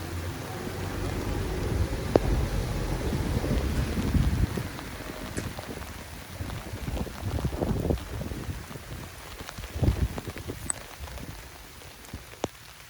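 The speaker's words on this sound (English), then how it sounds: "Pouring down rain." Heavy rain pours steadily over an outdoor garden where a raspberry support frame is being built, a dense, even hiss of drops close by, with a few sharper knocks and taps scattered through it.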